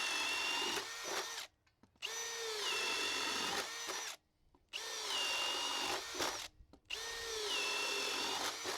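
A high-speed drill drives a Bosch Daredevil paddle bit into wood, whining loudly in three sustained bores of about two seconds each, broken by short silences and a brief spin-down.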